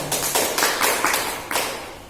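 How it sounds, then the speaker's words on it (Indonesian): A class of children claps in unison, a handful of sharp, loud claps in an uneven burst with short gaps, each one ringing briefly in a room; no talk. "tepuk tangan dulu semua"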